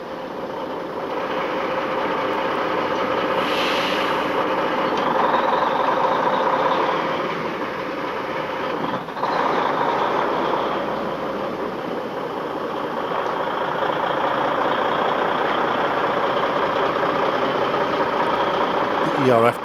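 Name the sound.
diesel truck tractor unit engine idling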